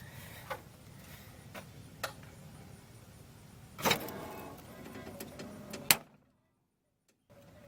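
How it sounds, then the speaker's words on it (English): A heavy metallic clunk as the bottom motor mount stud of a Jeep Cherokee XJ drops into its hole while the jack lowers, one sharp loud hit after scattered workshop knocks, then near silence. "I think that big clunk was the bottom stud going into that hole"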